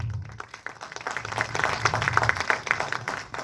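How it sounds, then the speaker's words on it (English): Scattered clapping from an audience, building into steady applause of moderate loudness with a low rumble beneath. "Can I have a round of applause for him, please?"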